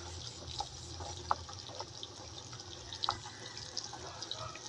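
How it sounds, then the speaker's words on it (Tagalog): Chicken tinola soup simmering in a pot, giving off soft, steady bubbling with scattered small pops and drips, low and close, with no talking. "Kumukulo-kulo na ang ating tinulang manok."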